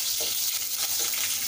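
Grated ginger and sliced green chilies hit a hot pan for mushroom masala, giving a loud, steady close-up sizzle with no talking.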